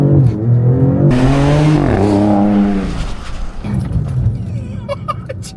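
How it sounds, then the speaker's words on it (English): A 2026 Dodge Charger drag build roars hard under launch control, its engine note climbing in stepped harmonic sweeps through quick shifts before settling into a rumbling cruise with wind noise, close and loud. "Let's see how launch control works on this puppy."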